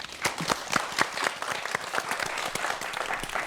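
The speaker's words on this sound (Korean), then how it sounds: "박수 부탁드립니다" Lecture audience applauding a physics speaker introduced at a science talk, with dense, continuous clapping from many hands at a steady moderate level, sharp individual claps standing out throughout.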